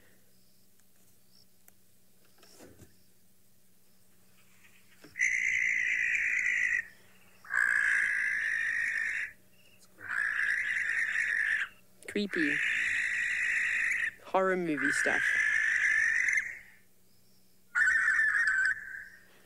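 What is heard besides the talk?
owl calling at night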